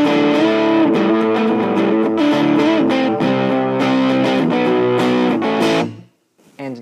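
Loud, gritty distorted electric guitar with a heavy, bass-weighted metal tone, chugging steadily for several seconds before cutting off abruptly near the end.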